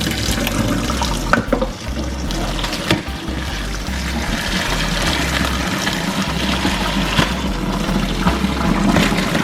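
Oily water from boiled chicken being poured off for Jamaican chicken soup, a steady loud splashing gush that runs continuously and close, with no talk.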